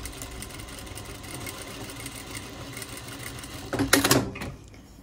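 A home sewing machine stitches fabric along the edge of the presser foot with auto back tack off, a steady close mechanical whir that rises into a louder burst of stitching near the end.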